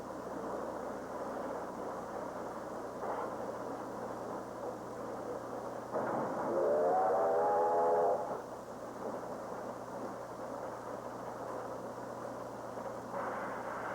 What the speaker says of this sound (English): Here comes the diesel now on the Denver-Omaha stock train.